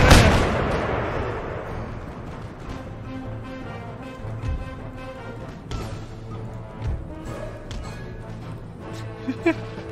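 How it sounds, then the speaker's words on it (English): Artillery round shot fires and lands in a volley during an Ireland invasion battle in Empire Total War: a strong opening boom, then scattered thuds and cracks, with a voice talking over the battle noise. "As all the round shot comes piling in."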